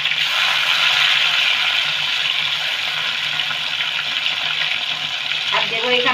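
Chopped tomatoes hit hot oil with fried cumin seeds and sizzle in a loud, steady hiss of frying, with a brief clatter near the end.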